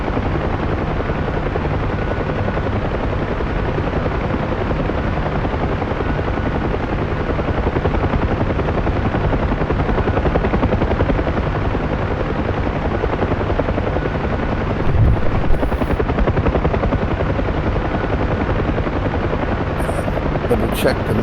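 A UH-1H Huey helicopter in the DCS flight simulator drones steadily and loudly throughout, its continuous rotor and turbine rumble unbroken, with a couple of faint clicks near the end.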